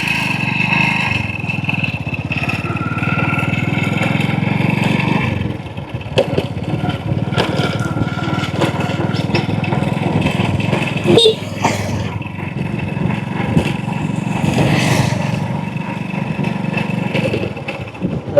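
A motorcycle engine hums steadily during a ride, its drone running under people talking, with a few louder bumps and rattles toward the end.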